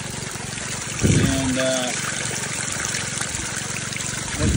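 Water runs steadily through gravel in a highbanking setup for gold along a river, a constant trickling wash with a pump droning beneath, while a person speaks briefly over it.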